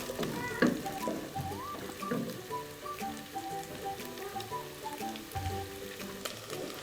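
Whole green chilies with ground ginger fry in oil, giving a faint, steady crackling sizzle with scattered pops under background sounds.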